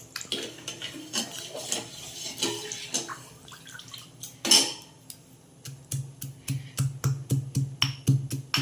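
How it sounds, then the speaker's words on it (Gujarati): A metal spoon stirs milk in a pot while making kheer, tapping and scraping against the sides in a repeated clinking rhythm, close and fairly clear. "દૂધ છે એટલે સતત હલાવતા રહીએ તો વધારે સારું, નીચે ચોંટવું ના જોઈએ."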